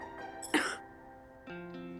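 A single sharp cough bursts out near the start, brief and close, followed by a short faint vocal sound in an otherwise quiet room.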